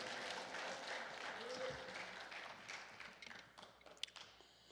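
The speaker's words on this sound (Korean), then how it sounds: "박수로 환영하며 하나님께 영광 올려드리겠습니다." Congregation at a prayer retreat claps to welcome a visiting pastor, a fairly soft, continuous patter of applause that gradually thins out over a few seconds, ending with a couple of isolated sharp claps and faint sounds of movement.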